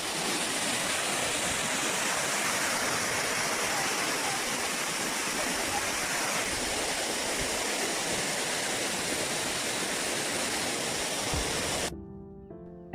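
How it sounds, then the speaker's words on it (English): A waterfall at Königssee in Germany, steady dense rushing roar of falling water heard close and loud, continuing unbroken for most of the stretch before cutting off. "we took a bath in this waterfall because it looks so inviting"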